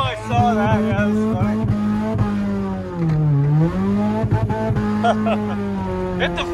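A car drifting with sustained tire squeal over a steady engine drone, the pitch sagging and recovering midway, loud and close throughout.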